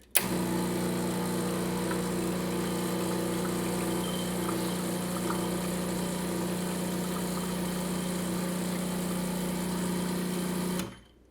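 A Gaggia Classic Pro espresso machine runs to warm up, giving a steady, loud motorized hum and vibration that holds evenly for about eleven seconds and then cuts off.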